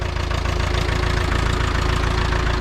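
An Ursus tractor engine runs steadily in snowy winter conditions, a loud, continuous low diesel rumble with a knocking idle rhythm that keeps going without a break.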